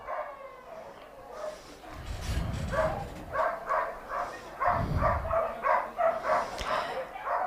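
Ace the Border Collie barks during a large-dog agility run at an international agility competition, a quick rhythmic series of yips and barks over low thuds and a busy arena background.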